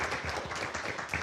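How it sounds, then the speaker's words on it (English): A conference audience gives a short burst of applause for a presenter, a dense patter of clapping in a room. "Let's give Mary a round of applause."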